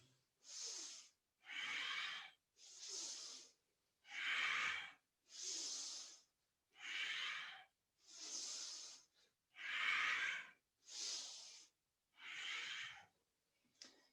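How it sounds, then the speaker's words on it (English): Forceful rhythmic breathing during a kundalini yoga exercise, about ten even breaths, sharp inhales and exhales alternating through the nose, close and clear with no speech between them. "Inhaling up, exhaling down."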